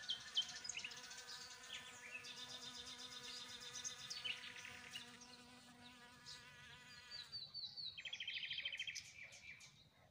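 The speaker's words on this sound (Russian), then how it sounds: "Вокруг древовидного пиона жужжат пчелы." Bees buzz around a tree peony in a garden, a steady close hum with individual insects drifting nearer and farther, and faint bird chirps in the background.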